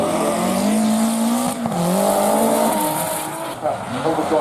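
A drift car at a British Drift Championship event, its engine screaming at sustained high revs with tyres squealing, loud and close, dipping briefly mid-run before climbing again, with a commentator talking over it.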